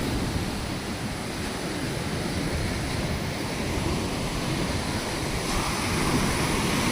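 Ocean waves wash onto the shore at Kala Patthar beach on Havelock, making a steady, close, broadband roar of surf that swells slightly near the end, with no voices.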